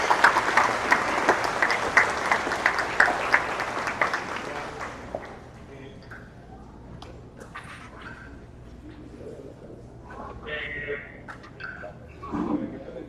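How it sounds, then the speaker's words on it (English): A school audience applauds the sixth grade teachers, loud dense clapping for about five seconds that then fades to scattered claps and quiet murmuring, with speech following. "Let's give our sixth grade teachers a round of applause."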